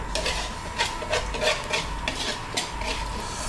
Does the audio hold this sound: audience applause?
no